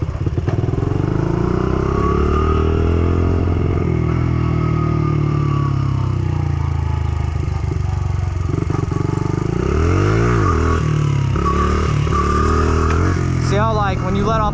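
A motorcycle engine running steadily loud and close during a wheelie attempt, with the throttle held and then eased off, so the pitch rises and dips; someone talks over it throughout.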